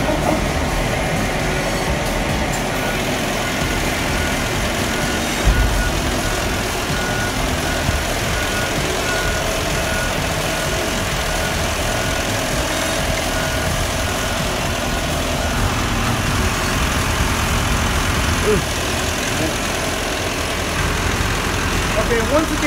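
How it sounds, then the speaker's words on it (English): Truck engine idling steadily at a landfill as a tipper trailer is lowered, a loud continuous diesel rumble with a persistent reversing beep over it and someone talking throughout. "When this thing goes down, the tipper goes down with the trailer"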